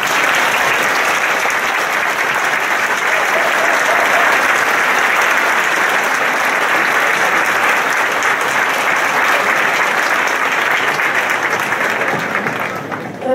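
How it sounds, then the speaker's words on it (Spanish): Strong, sustained applause from a theatre audience at a zarzuela gala in Fitero, Navarra, a dense wash of many hands clapping steadily and loudly throughout before easing slightly at the very end. "Me gustaría que se rompan las manos para dar ese fuerte aplauso a la señora Doña Mira Guara."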